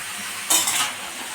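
A home kitchen where a mother fries food on the stove, with a steady sizzle and a brief clatter of a utensil stirring in the pan, close and without talk.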